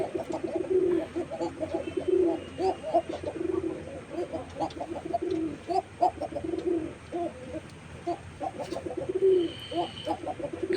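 A male koka pigeon in a pigeon house coos steadily, repeating rhythmic, throaty calls up close and fairly loud, with a faint background hum.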